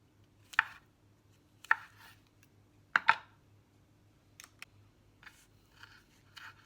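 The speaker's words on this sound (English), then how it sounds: "You can chop mushrooms sort of almost any way, as long as you don't cut yourself." A knife chops mushrooms on a chopping board in a few sharp, spaced strokes, with a short burst of quick cuts in the middle, then lighter scraping taps. The cuts sound close and crisp, with no talking.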